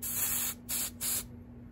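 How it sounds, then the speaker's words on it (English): Canned smoke aerosol sprayed into a smoke detector head during an Edwards EST iO 1000 fire alarm system test: one longer hissing burst followed by two short sharp spurts, close and loud over a faint steady electrical hum. "now let's spray some smoke in this little head right here"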